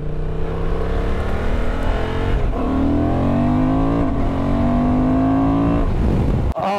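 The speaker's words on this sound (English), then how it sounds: "Oh, listen to this exhaust." Loud Honda Transalp XL750 motorcycle exhaust roars and rises in pitch through the gears, close and continuous, with a brief dip between shifts.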